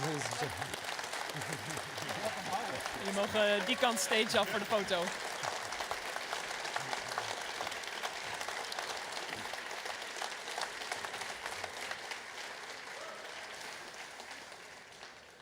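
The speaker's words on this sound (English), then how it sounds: "Please stand and a warm round of applause for the Dutch Game Garden." A crowd at the Dutch Game Awards 2024 applauds and stands for an honoree. The clapping is loud and sustained, fading slowly, and a voice speaks in Dutch over it.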